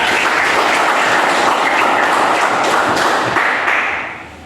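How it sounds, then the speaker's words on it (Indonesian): A class of students applauds a classmate in a school lesson, with dense, steady clapping that fills the room and then tapers off near the end. "Tepuk tangan buat Rita."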